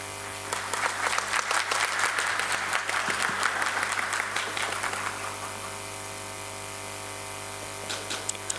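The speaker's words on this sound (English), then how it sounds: "Now, please join me in giving a warm round of applause to welcome our next speaker, Dr. H.N. Malik sir, to the stage." A conference audience applauds to welcome the next speaker at a physiology meeting, with dense clapping that builds and then fades into a steady electrical hum in a large hall.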